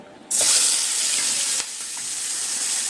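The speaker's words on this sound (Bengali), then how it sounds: "এবার কড়াইয়ে এই চিংড়ি মাছ কটা দিয়ে ভেজে তুলে নেব।" Prawns drop into hot oil in a wok over low flame, a sudden loud burst of sizzling that settles into a steady close crackling hiss, with a brief utensil knock midway.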